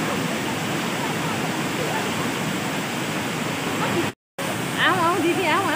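Neya Falls pours in a loud, constant broadband roar of falling water close by, with a brief cut near the end and voices chattering over the rush afterward.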